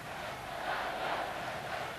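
A 16,000-strong home crowd at a volleyball European Championship match between Sweden and the Soviet Union roars in a steady, broad wash of cheering that swells slightly midway, with no distinct voices standing out.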